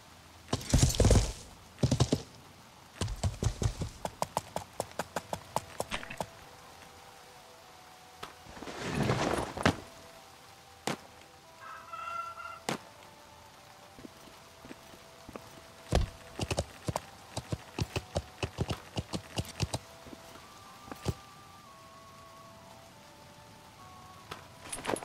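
Hooves clip-clopping in the medieval video game Life is Feudal, bursts of rapid, sharp hoof clops alternating with quieter stretches of sparse single steps, with a few faint tonal game sounds between.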